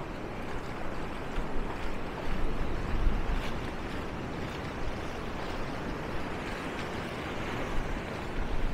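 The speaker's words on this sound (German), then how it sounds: "gerade mit dem Wasser hier, mit den Wellen." Ocean surf at Maspalomas on Gran Canaria, a steady broadband wash of waves rolling onto the shore under a high-wave warning, continuous and moderately loud, with some wind rumble and no voices.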